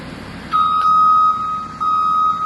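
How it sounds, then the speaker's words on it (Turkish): A loud, steady electronic horn of a Caterpillar CS64B soil compactor honks twice, a long blast then a second after a short gap, over low engine rumble. "Kornayı kontrol et. Kornamız çalışıyor"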